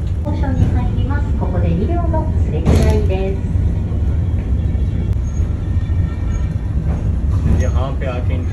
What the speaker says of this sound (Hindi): ये 1925 से ये ट्रेन चल रही है